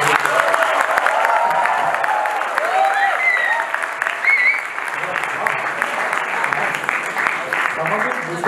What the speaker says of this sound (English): Let's just have a huge round of applause.